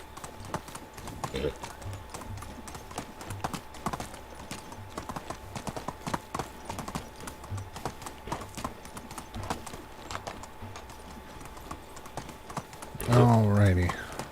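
Horse hooves clip-clop in a quick, steady rhythm as a horse is ridden through a forest at night in the video game Medieval Dynasty, with talking over the hoofbeats and a louder sound near the end.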